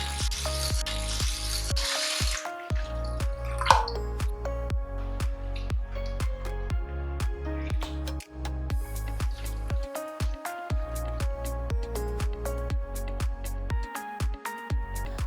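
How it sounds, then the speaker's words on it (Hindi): Rice, urad dal and fenugreek seeds are washed by hand in a bowl of water, with repeated squishing, sloshing and dripping in a quick, regular rhythm, close and clear, with no talking. "साफ पानी आने तक अच्छे से धो लेंगे।"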